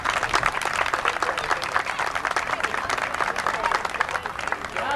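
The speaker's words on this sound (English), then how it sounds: "I'd like to have a round of applause for both teams." A crowd at a 1994 men's baseball championship game between Fuelex and Washington Township applauds both teams, with dense, sustained clapping that runs close and loud for several seconds alongside some voices.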